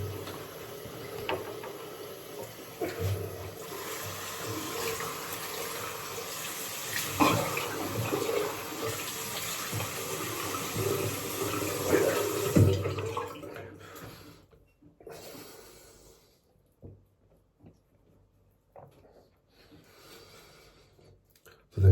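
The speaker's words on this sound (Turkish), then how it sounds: "Şimdi yüzümüzü yıkayalım" Tap water runs steadily at a sink as a face is rinsed after a classic wet shave, a continuous hiss with small splashes that stops abruptly after about thirteen seconds, leaving near silence with faint handling noises.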